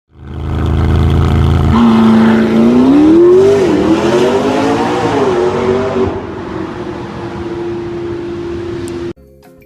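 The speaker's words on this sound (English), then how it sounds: "you just saw a video clip of a McLaren P1 peeling out" A McLaren P1 peels out, its engine roaring loud and close as it revs, a rising and wavering whine over a heavy rumble that holds steady before cutting off abruptly at the end.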